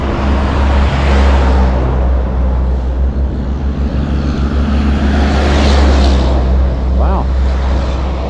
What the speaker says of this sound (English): Traffic really is picking up.